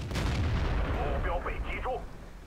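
Tank cannon fire in World of Tanks, a heavy booming blast with rumbling low-end decay and a rising whine of a shell or ricochet trailing off.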